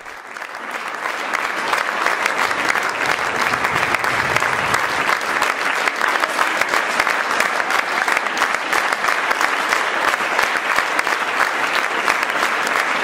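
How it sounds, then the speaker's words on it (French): An audience applauds steadily and loudly at the end of a dance show in Soustons, a dense, unbroken wash of clapping that swells in and holds for over ten seconds. "À en juger par la déferlante d'applaudissements à la fin du spectacle"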